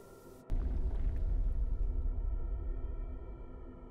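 An earthquake in the video game Darkwood sets off a sudden deep rumble that holds steady and slowly fades, with a low droning undertone and no voices.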